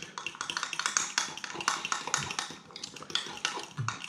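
A utensil stirring cornstarch into a stir-fry sauce in a bowl or pan, making quick, light clinking and scraping taps in a steady, busy rhythm, close and fairly quiet.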